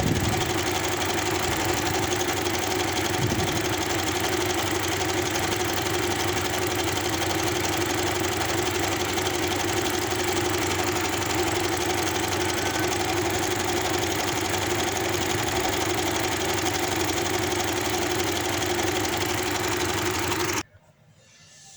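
Domestic sewing machine stitching a fabric frill for a saree blouse, running as a steady continuous mechanical whir for about twenty seconds before stopping abruptly.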